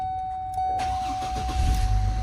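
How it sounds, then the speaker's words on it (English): A GMC Envoy XL engine starts with the ignition key after a chime: a brief crank, then the engine catches and settles into a loud, rough idle close by. "it'll start the engine."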